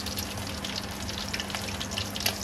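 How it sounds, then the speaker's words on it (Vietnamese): Seafood fries in a pan of hot oil, giving a steady, close crackling sizzle with small popping spikes that runs throughout, with no voices. "đây mình chiên được một mẻ rồi nha các bạn"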